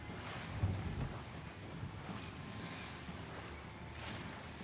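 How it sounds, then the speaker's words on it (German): Steady wind rushes past a sailing boat at sea in the Wartales video game, a constant broadband whoosh with slow gusts swelling and easing, and no other sounds over it. "Man fährt raus aufs Meer, der Wind weht einem entgegen."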